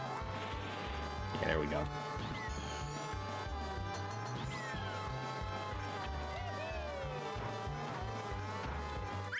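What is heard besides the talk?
kart drifting in video game Mario Kart 64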